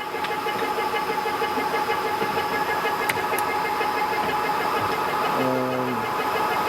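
A metal lathe runs with its half nut engaged for feed, giving a steady mechanical drone with a constant whine throughout and a brief shift in tone near the end.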